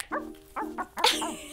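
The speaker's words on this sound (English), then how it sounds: "I was just finishing up a little doggy training session with my best dog, Stormy Jane." A dog barks in short, close bursts during a trick-training session, several yips and barks in quick succession with a whimpering edge and no talk over them.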